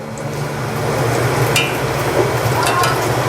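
Cabbage bonda deep-fries in hot oil, a loud, steady bubbling sizzle close by, with a few faint clinks as the fritters are turned over and no voices.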